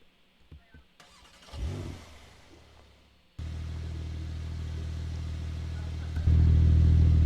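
A car engine starts with a sudden jump in sound after some quiet shuffling, then idles loudly and steadily before revving harder and louder as the car pulls away.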